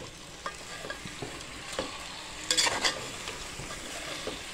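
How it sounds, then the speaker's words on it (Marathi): Mutton being sautéed in masala in a pan, a soft steady sizzle broken by a few scraping stirs and a louder clatter of spatula near the middle, fairly quiet and close. "तर हे मटण पण आपल्याला परतून घ्यायचे।"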